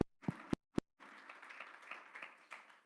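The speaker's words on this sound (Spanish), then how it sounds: "denle fuerte el aplauso al Señor" A church congregation bursts into applause during a sermon: a few loud, isolated claps ring out first, then a full, sustained round of clapping swells and continues to the end.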